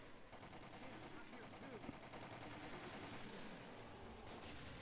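Rapid gunfire rattles through Resident Evil: The Umbrella Chronicles, a dense, continuous spray of shots at low level with game noise behind it.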